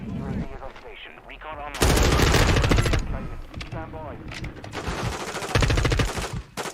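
Rapid bursts of automatic gunfire from Modern Warfare 2 multiplayer gameplay, loud and sustained in two stretches, with someone talking over the quieter gaps between volleys.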